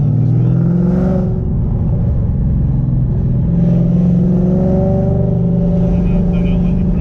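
A 1000bhp Ford Mustang with stability control off accelerates hard and spins its tyres, its loud, close engine roaring and rising steadily throughout, with a voice speaking briefly over it.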